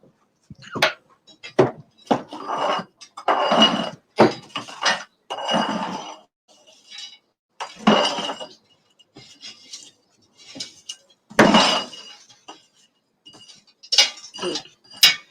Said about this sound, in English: we have to scrape all the fire out, make sure we get all the fire out